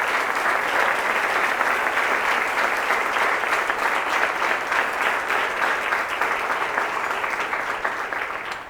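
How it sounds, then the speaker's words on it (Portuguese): A church congregation at an evening service claps together in sustained, dense applause, loud and steady throughout before tapering slightly at the very end. "eu queria que você aplaudisse e glorificasse o nome do Senhor"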